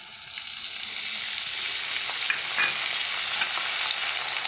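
Chili powder, turmeric and salt sizzle in hot oil in a wok, a close, continuous crackling hiss with light stirring scrapes throughout.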